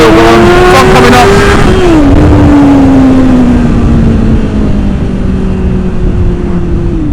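A Kawasaki ZX9R motorcycle accelerating hard in second gear, its loud engine note rising steadily and close, then easing and dropping as the rush of wind takes over.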